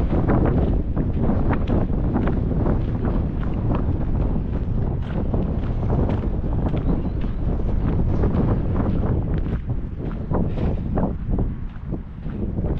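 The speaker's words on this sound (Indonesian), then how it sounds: "Anginnya kencang." Strong wind roars and buffets the microphone without a break, a loud, rough rushing that swells and dips slightly but never lets up.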